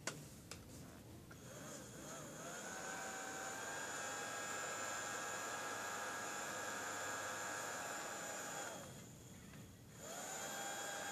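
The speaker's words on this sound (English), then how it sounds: "let this dry in the dryer." A small electric nail polish dryer hums and whines continuously nearby, its motor dipping briefly before resuming its steady drone.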